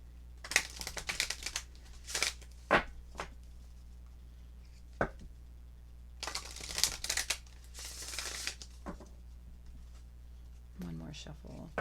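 Tarot cards being shuffled by hand, giving irregular bursts of crisp riffling and slapping at close range, separated by quieter gaps with a low steady hum underneath.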